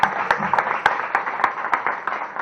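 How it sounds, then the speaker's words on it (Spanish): An audience claps at a talk, a small group giving sparse, distinct claps in a loose rhythm with no voices over it. "Un fuerte aplauso, por favor."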